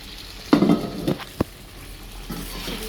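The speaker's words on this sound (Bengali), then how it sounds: "চিকেনগুলো দিয়ে ভালোভাবে আবার কষাবো" Chicken pieces stir-fried with spices in a pan for a spicy curry, a few scraping stirs and clatters of the spoon against the pan over a faint sizzle, no talk.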